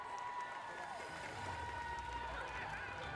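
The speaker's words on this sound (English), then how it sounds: "give them a big round of applause, folks" A dense crowd of friends and family cheers and applauds runners crossing a race finish line, a steady wash of noise with voices mixed in.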